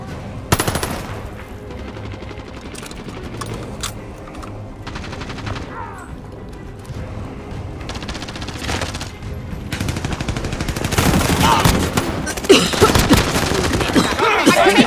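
Call of Duty Modern Warfare 2019 battle royale combat fills the scene with bursts of machine-gun fire and scattered single shots, growing heavier and louder toward the end, with game sounds mixed in.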